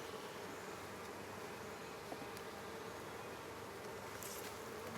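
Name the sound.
honey bees buzzing during transfer of nucs into hive boxes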